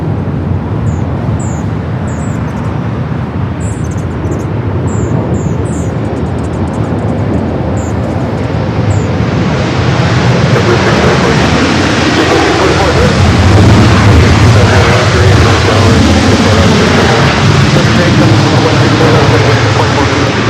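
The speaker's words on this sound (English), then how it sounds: "We got 3 heavies up next here for takeoffs here on the north." A heavy jet airliner powers up for takeoff on the north runway at Los Angeles International Airport, a loud broadband roar that swells and deepens. Brief chirpy tones sound over it early on.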